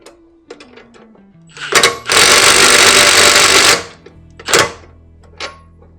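A power tool runs a nylock nut down onto a bolt while assembling a motorcycle jack hitch hauler, a loud whirring burst of about two seconds framed by sharp clanks and metallic taps, close with no talking.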